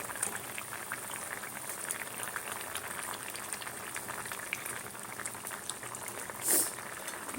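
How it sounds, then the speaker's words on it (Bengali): A lentil and prawn curry gravy bubbles steadily in a saucepan, with a constant soft boiling texture and faint pops, plus one brief louder bump near the end. "ঝোলটা ফুটছে"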